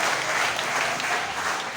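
A church congregation at a jubilee service applauds without a break, a dense, even wash of many hands clapping and filling the room.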